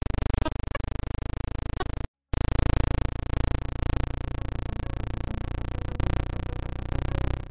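Space recording from Titan, Saturn's largest moon with its thick orange atmosphere, converted to sound: a loud, steady droning hum rich in buzzing overtones, with an abrupt dropout near the two-second mark and glitchy stutters throughout.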